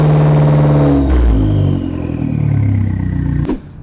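A Fiat car engine revs loudly up to about 2,500 RPM during an exhaust compliance test, a close, sustained mechanical roar that swells, holds, then drops away abruptly near the end, with no voices.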